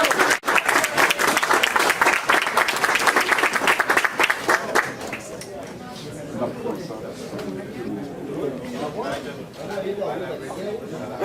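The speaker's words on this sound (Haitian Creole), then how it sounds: "Applaudissez, s'il vous plaît." An audience at a certificate ceremony in Haiti claps loudly and steadily for several seconds, then the applause fades into crowd chatter and talking voices.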